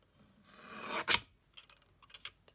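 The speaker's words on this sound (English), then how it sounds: "I think I'm just going to use my little guillotine" A small paper guillotine trims the ends off card for an origami shirt greeting card: a rising rasping slide builds to one sharp cutting stroke, followed by a few lighter scraping and tapping handling sounds, close and alone.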